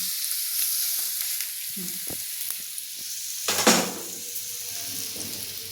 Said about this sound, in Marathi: ही फोडणी आता आपण या चटणीवर टाकायची ही बघा आणि अशी गरम गरम असतानाच टाकायची